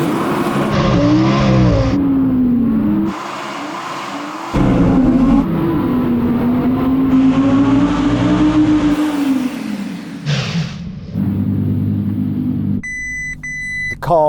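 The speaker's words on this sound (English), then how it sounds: "We're just going to have to go with stability off and just floor the throttle, okay?" An Audi R8 on winter tires launches at full throttle in a drag race, its engine roaring loud and close, rising through repeated revving pulls with shift breaks, then easing off near the end as electronic warning beeps chime.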